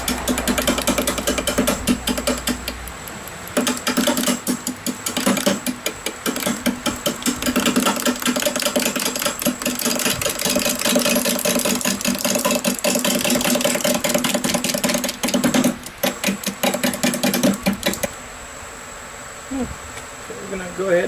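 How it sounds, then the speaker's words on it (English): A wood lathe spins a mesquite burl bowl blank at about 300 RPM, a steady loud whirring drone with rhythmic pulsing, then the motor note drops away toward the end. "I stopped the lathe frequently to check for problems and retightened my fittings"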